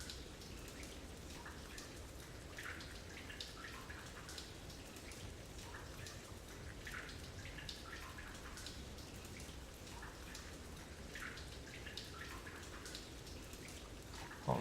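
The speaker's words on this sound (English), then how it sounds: "Right, so there's lots of water noises all around me." Water drips and patters all around in the audio game The Tower, a constant rain-like hiss with scattered droplet ticks, steady and faintly spacious throughout, with no talking.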